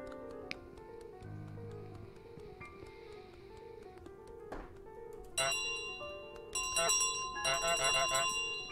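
A golden bell rings in a video game amid chiming bell tones and layered game effects, growing louder and denser toward the end without speech.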